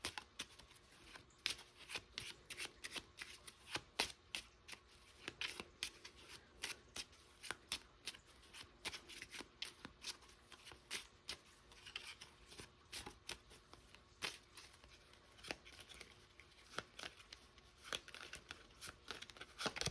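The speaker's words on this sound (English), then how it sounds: "I'm going to pull a couple oracle cards, and then we'll pull tarot." Oracle and tarot cards being shuffled by hand, a long run of quick, crisp riffling and flapping bursts at close range, steady and repeated, with no talking.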